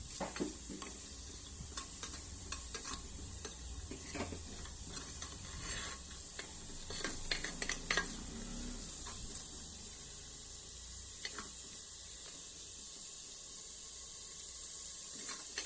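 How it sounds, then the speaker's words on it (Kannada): A secret ingredient for cauliflower sukka frying in a pan, giving a steady bright hiss of oil throughout with scattered clicks and scrapes of stirring, no voices. "ಒಳ್ಳೆ ಫ್ರೈ ಆಗಲಿ"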